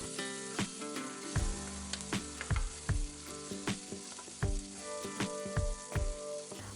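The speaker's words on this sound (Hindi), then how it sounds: "उसी तेल में हम भूनेंगे प्याज" Onions fry in leftover peanut oil with mustard seeds and curry leaves for poha, a close, lively sizzle punctuated by rhythmic knocks of a spoon stirring against the pan.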